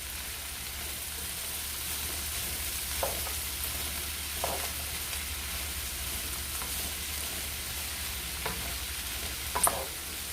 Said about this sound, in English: when you put the cabbage in, you want to stir it to try to get the moisture on it